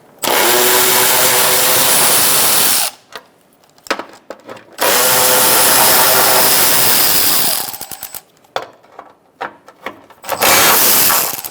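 A power tool with a 10mm socket runs loudly in long bursts, undoing bolts on the A/C condenser of a 2012-2017 Hyundai Accent, with short pauses and a few quick trigger blips between runs.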